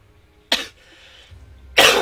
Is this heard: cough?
yes